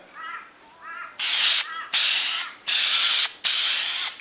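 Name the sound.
spraying rubbery paint coat onto car headlight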